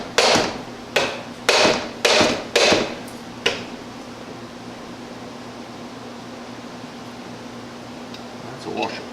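A dead blow hammer strikes a metal part on a Sidney lathe during restoration, six sharp blows in quick uneven succession, then a steady low hum of a workshop fan or machine fills the remaining seconds.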